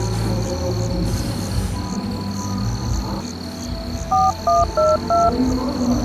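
A quick series of telephone keypad beeps, about five short tones in a row, near the end over steady background noise.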